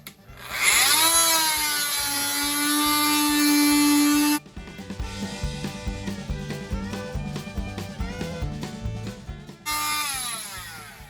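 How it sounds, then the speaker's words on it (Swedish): An oscillating multi-tool cutting shelves whines high and steady for several seconds, then makes a choppy buzzing cut with rapid clicking, before the whine returns near the end. "Multiverktyget kommer väl till pass nu när jag ska göra hyllplanen."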